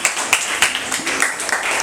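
Audience at a school debate clapping in a quick, uneven run of close hand claps over just under two seconds, fairly loud and without talk.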